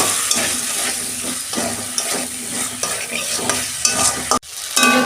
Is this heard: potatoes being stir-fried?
yes